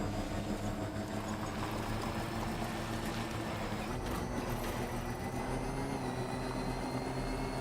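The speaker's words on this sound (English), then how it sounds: "you can tell that I'm going at a higher speed as well, just because of the engine rev sound" A vehicle engine revs at high speed in a video game set among bandits and BTs, a steady loud mechanical drone with layered tones that holds throughout without breaks.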